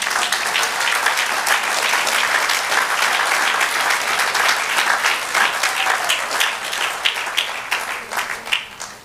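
A church congregation claps during a Spanish-language sermon, thick sustained applause from many hands, loud and near, continuing for about nine seconds before thinning into scattered claps at the close.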